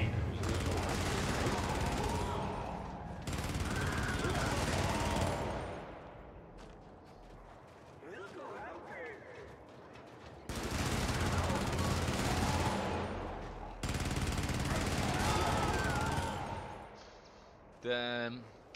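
Deployed turret equipment in the video game Helldivers firing overhead in long, loud sustained bursts separated by brief lulls, ending with a short mechanical rattle.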